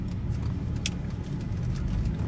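A car's steady road rumble and engine drone fill the cabin from inside while driving, with a faint jingle of keys now and then.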